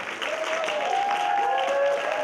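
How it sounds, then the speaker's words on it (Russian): Audience applause for children who have just performed at a Grandmothers' Day concert held by the Udmurt community association in Moscow, steady and full throughout, with a sustained whistle-like tone running through the clapping. "Я думаю, что наши дети достойны еще более громких аплодисментов."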